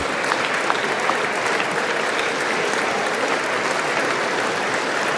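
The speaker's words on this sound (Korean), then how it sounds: "박수가 끊이질 않습니다." Sustained, loud standing applause from a large crowd in the US Congress chamber during a presidential address, steady clapping that continues without pause.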